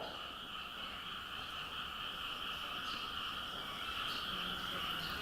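Frogs croaking in a steady, dense chorus of rasping calls that runs unbroken throughout, with faint insect chirping mixed in and no voices.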